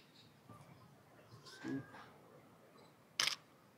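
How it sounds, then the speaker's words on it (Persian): A camera shutter snaps during outdoor photography in Pattaya: a softer click early on, then one sharp, distinct click near the end over quiet ambient background. "امیدوارم صدا شاترم قشنگ بیاد و لذت ببرید دوستانا."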